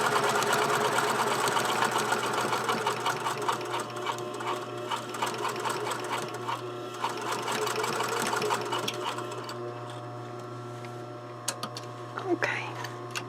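A sewing machine runs steadily, stitching a neck facing to the shoulder of a garment. The motor's close, continuous whir fades near the end, leaving a few light clicks.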